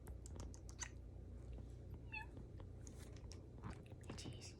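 A pet cat gives a brief high meow amid soft chewing and rustling close to the microphone, while a person speaks gently nearby.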